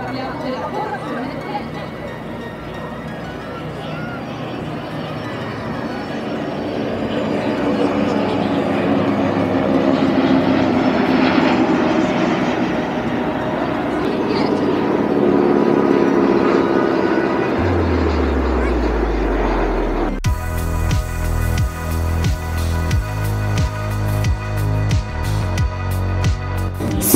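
Italian Frecce Tricolori jets flying over the 2019 air show at Milano Linate, heard as a broad, sustained roar swelling for about eighteen seconds before a steady musical passage takes over.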